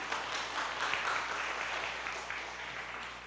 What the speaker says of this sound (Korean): 박수 좀 쳐드리세요